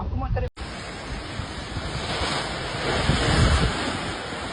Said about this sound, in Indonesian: akibat angin kencang.